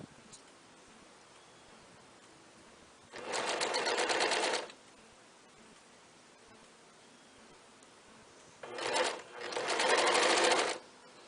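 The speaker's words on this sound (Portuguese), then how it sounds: "Encaixa o viés aí dentro, o tecido dentro do viés e vai costurando." A sewing machine stitches bias binding onto a satin blouse in two bursts, about a second then two seconds long, each a loud, fast, even mechanical whir separated by quiet pauses, with no voices.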